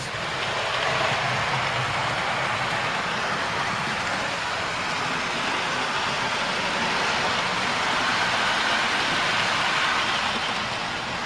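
Model railway train running on a loft layout, a steady continuous rolling rumble and whirr heard close and unbroken throughout, with no talk.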